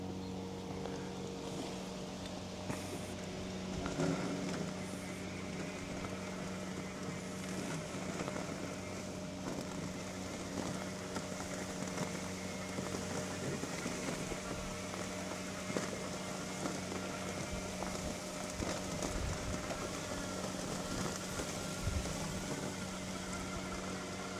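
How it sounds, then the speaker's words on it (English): A Yarbo robot mower runs with its blades on at top cutting height and low speed, a steady motorized whirr with a constant mechanical drone, continuous throughout with faint wind. "I'm telling it just to mow at top height, turning the blades on."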